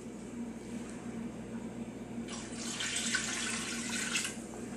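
About two and a half cups of water poured into a tomato-based seafood stew, a soft hiss of water rising suddenly partway through and running steadily to the end, close and moderately loud.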